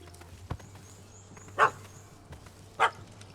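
A dog in The Witcher 3 barks twice, with sharp, fairly loud yelps about a second apart over a quiet in-game ambient background.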